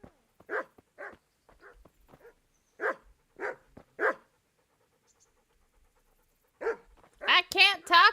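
A dog in the medieval video game Kingdom Come: Deliverance pants in short, spaced bursts, then ends with a louder run of barks and yelps.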